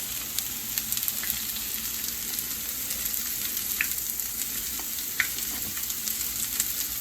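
Korean pancakes sizzle steadily in a hot pan beside a honey garlic cauliflower dish, a continuous fine crackle with small pops and spatters scattered through the whole stretch, close and moderately loud with no talking.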